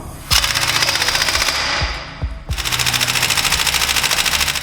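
An air impact wrench hammers away at bolts on a wrecked Tesla being rebuilt into an off-road truck, in loud rapid rattling bursts with a short pause between two long runs.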